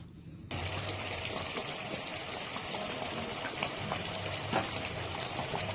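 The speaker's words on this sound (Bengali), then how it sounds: "এটা কিন্তু ফুটতে শুরু করেছে" A pot of yogurt fish curry bubbles and simmers steadily, a constant watery boil with occasional louder pops, starting after a brief quiet moment.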